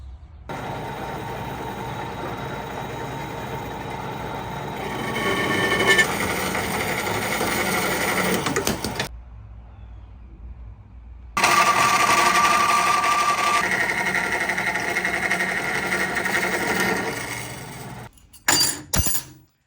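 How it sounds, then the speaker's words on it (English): A coolant-fed bandsaw cuts through metal stock in a workshop, a loud steady grinding whine that stops abruptly for a couple of seconds, starts again, then dies away with a few short bursts at the end. "I do own a coolant fed bandsaw."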